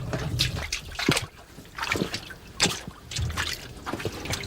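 Water trickling and dripping where it emerges inside an Andalusian mine tunnel, close and irregular, with small splashes and gurgles in uneven bursts.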